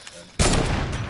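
A heavy sniper rifle shot in a video game: one sudden loud blast that keeps ringing to the end of the clip, following a quieter stretch of game ambience.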